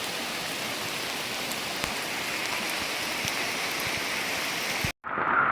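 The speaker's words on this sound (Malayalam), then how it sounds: "ചൊരിയുന്ന മഴയാണ് മഴയത്ത് ഞാനും അങ്ങ് നനഞ്ഞു" Heavy rain pours steadily along a pilgrimage route up a hill shrine, a dense close hiss of drops on surfaces that holds unbroken for about five seconds before cutting off abruptly.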